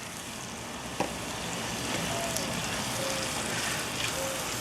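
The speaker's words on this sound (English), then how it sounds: "onions and hot dogs have been sauteing together here for just a couple of minutes" Chopped onion and hot dogs sauté on an Akorn Kamado grill, giving a steady close hiss and crackle like light rain, with a few soft pops and a faint tone drifting in the background.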